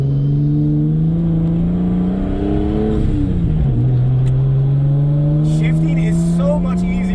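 Nissan R32 Skyline GTS-t turbo car driven with manual shifts, engine droning close and loud, revs climbing, dropping sharply at a gear change, then pulling steadily again.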